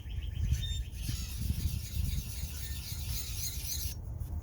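A drawknife's bevel and back are rubbed across a fine-grit sharpening stone, making a faint, steady rasping scrape with repeated strokes and a few light chirps in the background.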